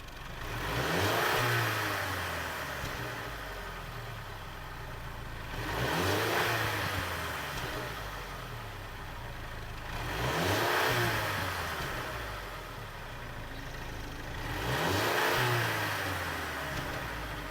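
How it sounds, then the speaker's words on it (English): A 2022 Mercedes-Benz GLC 300 4MATIC's 2-liter engine revs up four times at regular intervals, each surge of exhaust note rising then falling back to a steady idle. "let's go ahead and listen to the exhaust note on this car."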